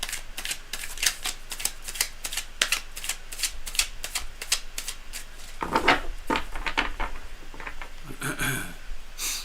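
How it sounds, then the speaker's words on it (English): Tarot cards shuffled by hand in a steady run of crisp riffling snaps and slides, close and fairly loud, with a brief pause and a louder burst of shuffling toward the end. "Cards are already shuffled, but I need to go for more."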